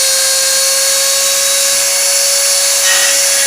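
A CNC router cuts an arc in the counterclockwise direction, giving a steady, loud high-pitched whine with a constant tone and no talk.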